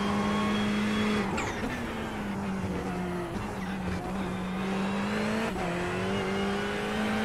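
An F1 car in the iRacing sim races with a loud, steady, high-pitched engine drone that shifts pitch between gears, plus brief tire squeal, continuous and close with no talking.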